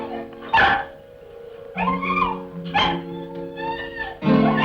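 Several dogs whimper and yip in short bursts, close by and fairly loud, with pauses between the whines and no talk over them.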